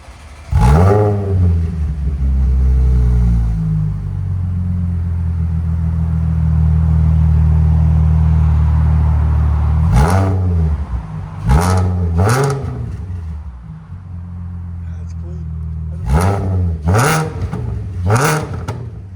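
Audi SQ5 3.0L supercharged V6 with downpipes and an X-pipe exhaust, a loud close-up rev that holds a sustained roar, then settles and fires off several sharp, quick blips.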